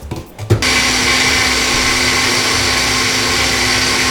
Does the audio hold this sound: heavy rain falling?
no